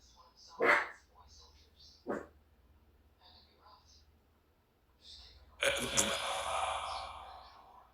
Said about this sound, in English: Are you making my dog bark?